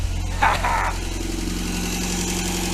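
A Ford Orion 1.3 engine idling with a steady low hum and brief rev early on, then settling back to an even idle, heard up close.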